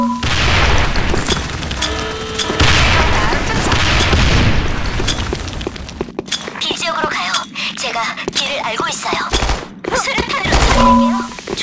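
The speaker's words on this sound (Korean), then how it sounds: "수류탄 투척." A grenade explodes in the online shooter Sudden Attack, a loud booming blast among dense gunfire and combat effects, with a voice speaking over the action.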